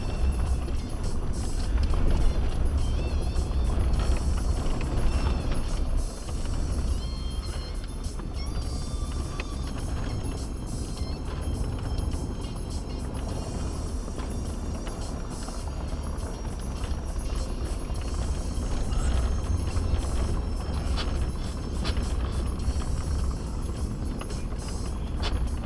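Truck with a 1,100-pound front plow and over 5,000 pounds of sand in the back straining through hard drifted snow on a long, steep, curved driveway, a steady loud engine drone and rumble throughout.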